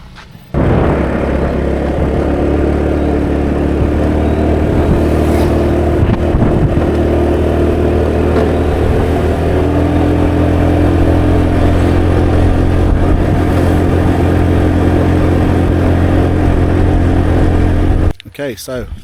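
A vehicle drives along a small jungle mountain road in the Philippines, its engine a loud, steady drone with some road rumble that holds for most of the stretch before cutting off near the end.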